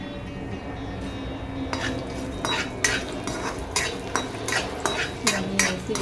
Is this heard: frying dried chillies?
yes